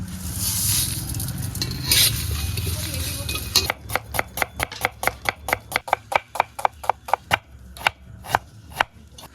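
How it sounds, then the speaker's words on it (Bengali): Dried chillies, fennel, cumin and coriander seeds dry-roast in a wok: a crackling sizzle first, then a steady run of sharp, rhythmic spatula scrapes close by. "লঙ্কাটা প্রায় ভাজা হয়ে গেছে এখন দিয়ে দেবো মৌরি জিরা আর ধুনে"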